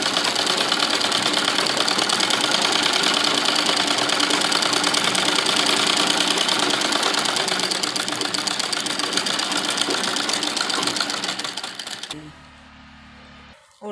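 Sewing machine running steadily as elastic is stitched into a circular umbrella palazzo, a loud continuous mechanical whir with rapid needle rhythm for about twelve seconds before it stops abruptly.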